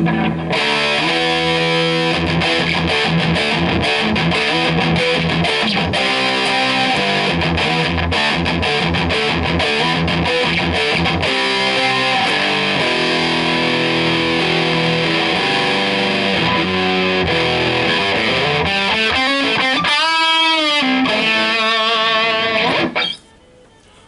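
A G&L Fallout electric guitar in Sonic Blue plays continuously with heavy distortion through an effects unit, strumming chords and riffs for over twenty seconds before stopping abruptly.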